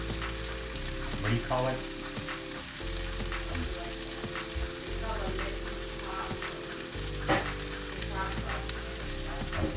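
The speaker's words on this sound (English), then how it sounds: "Right, that sausage is browning." Sausage browns in a frying pan with a constant close sizzle and crackle, broken by scattered pops and utensil scrapes, with a quiet voice briefly talking over the cooking.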